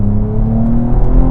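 Close, loud drone of a Cadillac ATS-V twin-turbo V6 accelerating, a steady low engine tone rising smoothly without breaks.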